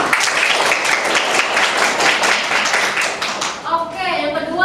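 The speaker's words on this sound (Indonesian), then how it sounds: "Ya, terima kasih, kasih tepuk tangan." A class in an economics teaching session breaks into dense applause that fills most of the moment, then thins out as a voice starts talking near the end.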